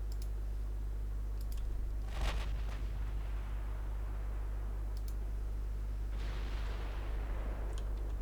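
Light cruiser guns fire in a naval combat video game, a couple of distant booming salvos separated by rumbling quiet, with faint clicks in between.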